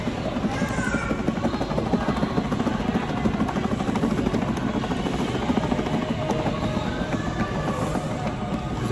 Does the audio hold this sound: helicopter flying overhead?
yes